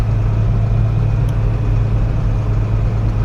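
Combine harvester engine idling during a wheat harvest, a steady low mechanical drone that holds loud and close without a break.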